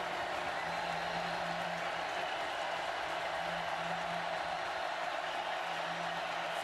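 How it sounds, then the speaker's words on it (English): A college football stadium crowd at a Florida State versus Clemson game, a broad, steady roar of distant massed voices filling the whole stretch at moderate level, with a faint low hum beneath. "Crowd getting loud."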